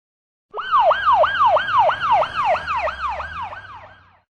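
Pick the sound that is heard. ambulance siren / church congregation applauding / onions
ambulance siren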